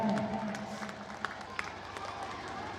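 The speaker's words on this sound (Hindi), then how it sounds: "Applause. जोरदार तालियां हो जाएं." An audience at a school annual day function gives scattered applause, with sharp individual claps over a dull crowd murmur and a brief distant voice, fairly faint overall.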